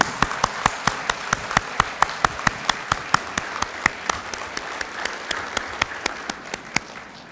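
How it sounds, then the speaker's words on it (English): A graduation convocation audience applauding, rapid steady clapping from many hands filling a large hall, with sharp nearby claps standing out above the dense crowd applause throughout. "please give them a big round of applause"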